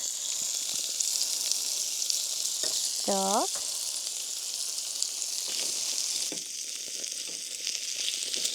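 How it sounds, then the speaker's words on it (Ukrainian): Steady hissing sizzle of small fishing-lure-shaped fried dough pieces frying in a pan, with a brief metallic scrape and a short spoken word in the middle. "наші човники активно смажаться"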